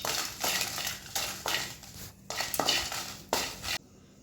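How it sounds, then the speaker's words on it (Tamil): Dry red chillies roast lightly in a little oil for curry leaf powder, with repeated scraping and stirring strokes of a spoon against the pan in bursts, close by, and only a faint sizzle beneath. "ஸோ அந்த எண்ணெயிலே வந்து நம்ம லைட்டாக அப்படியே வறுத்துக்கலாம்"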